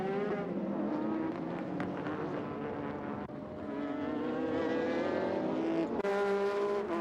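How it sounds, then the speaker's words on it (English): GT race cars at a 1999 JGTC race, an orange Arta Nissan Skyline overtaking a Honda NSX, with loud engines revving and shifting through gears, pitch rising and dropping across several seconds as the cars pass close by. "Soon the orange-jacketed Arta's XL Skyline got past the Honda."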